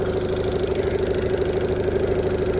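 A 2017 Evinrude E-TEC 15hp H.O. outboard engine, running hot near trolling speed, makes a steady, loud, close idling drone with a fast, even pulse throughout and no talking.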